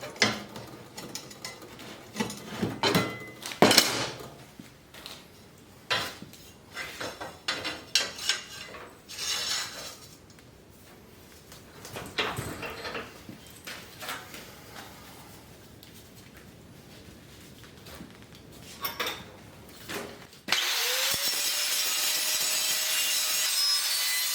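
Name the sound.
grinding a cut metal circle for a chimney cap in a vise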